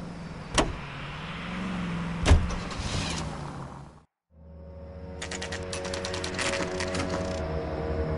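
Car driving in the L.A. Noire video game: a steady engine hum with a couple of sharp clicks early, a brief drop-out, then the motor rising again with a bright rattling texture.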